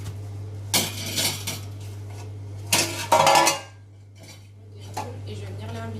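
A baked lemon cake is turned out of its metal tin, with a few close metallic knocks and clatters in separate bursts over a steady low hum.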